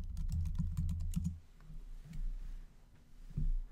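Fingers type a username and password on a computer keyboard, a quick burst of soft clicking keystrokes followed by a few sparse taps, close and fairly quiet with no talking.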